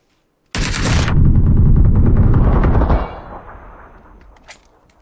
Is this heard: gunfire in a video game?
yes